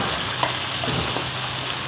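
Chicken pieces sizzling in a pan with garlic, a steady close hiss of frying that carries on without a break.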